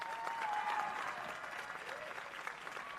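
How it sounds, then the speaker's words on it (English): Applause and cheering from a live audience welcoming a performer onto the stage at an Ipswich arts event, a steady wash of clapping heard from a distance at low volume, with a faint voice or whistle near the start. "please help me in a big cheer and a round of applause in welcoming her to the stage tonight"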